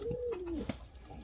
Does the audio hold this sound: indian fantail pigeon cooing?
yes